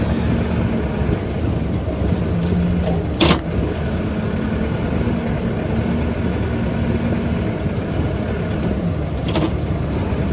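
A lorry's diesel engine idles close by at a site where a JCB 3CX is unloading 20ft shipping containers, a steady low rumble throughout with a brief louder knock partway through.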